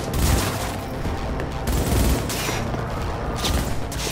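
Sustained gunfire in the video game Cyberpunk 2077, with loud rapid automatic bursts and booming shots overlapping continuously in a dense, close firefight.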